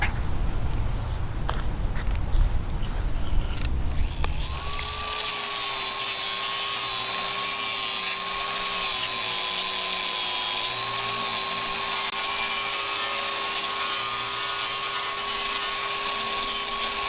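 A power grinder strips paint from the underside of a GM G6 panoramic sunroof panel being fitted to a box Chevy Caprice LS Brougham, a steady high-pitched whine running nonstop after some handling noise at the start.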